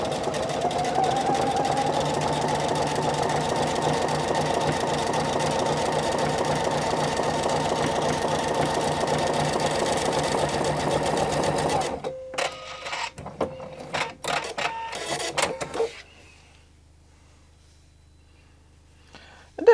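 Domestic sewing machine stitching jacket fabric with a shortened stitch length, a steady mechanical whir and rapid needle rhythm running continuously, then stopping into a few short bursts and clicks before falling quiet.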